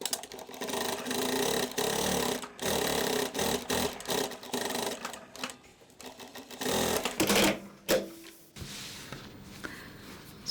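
An industrial sewing machine fitted with a guide attachment runs in bursts, its rapid mechanical stitching whir starting and stopping repeatedly as fabric feeds through, close and moderately loud.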